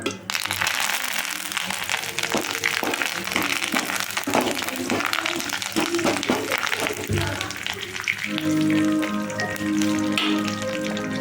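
Macaroni pasta ingredients sauté and sizzle in a pan with stirring, a steady, close frying hiss and scraping that runs throughout at moderate loudness.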